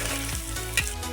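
Spices for mango chutney fry in a pan while being stirred, giving a dense, close sizzle with a quick scrape of the spoon, brief and without talking.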